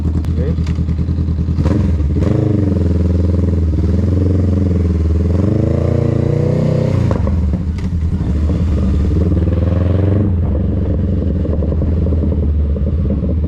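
All-black cruiser motorcycle with dual exhaust running close by, a loud, deep, continuous engine rumble that swells and falls with throttle changes.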